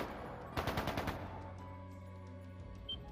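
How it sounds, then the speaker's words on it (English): Rapid burst of automatic gunfire in the video game Trails of Cold Steel II, about six quick cracks in a row, then ringing tails over quiet background music. "That sounded like gunfire."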